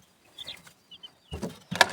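Small chicks call from behind a door, a few faint high peeps, then two louder bursts of cheeping near the end.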